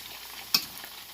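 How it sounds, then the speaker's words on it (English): Sausage with onions and potatoes frying in grease: a soft, continuous sizzle close by, broken by one brief sharp clatter of stirring. "Just allow that to fry."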